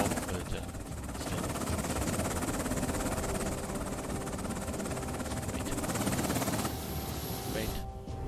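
Steady, loud rotor and engine drone of a Mi-8 helicopter in the game Afghanistan '11, continuous throughout with a brief dip near the end.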